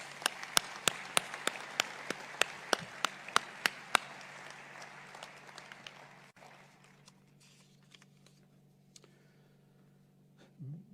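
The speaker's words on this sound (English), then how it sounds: "Please share with me a round of applause for these trailblazers." Audience applause at a university presidential inauguration ceremony in Egypt, sharp separate claps ringing out over a dense wash of clapping for about four seconds before fading into a low steady hum of the hall.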